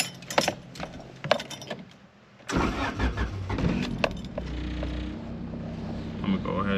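A Honda Civic EF is started with a jangle of keys, then its engine catches and idles with a low steady rumble and light revs, close by, after some brief clicking and handling sounds.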